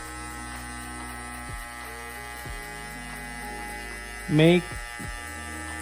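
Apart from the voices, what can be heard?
electric hair clippers buzzing during a haircut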